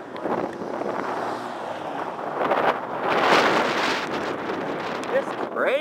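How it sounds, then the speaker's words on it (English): Strong, gusty wind roars into the microphone in rumbling buffets, swelling louder midway, with faint voices underneath. "Crazy windy today."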